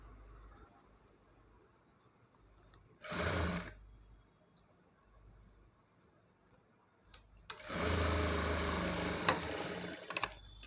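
A sewing machine stitching a model hand garment runs in two bursts, a short one then a longer steady whir, separated by quiet room tone.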